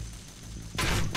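Gun in the Banzai Escape video game, low rumbling background followed by a sudden loud burst of fire near the end of the short moment.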